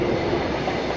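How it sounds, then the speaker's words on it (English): An HST passenger train run by VTEC arriving at Doncaster station, a dense, steady roar of rolling wheels and engine close by, with no voices. "And arriving in now is a service to Leeds. HST VTEC service."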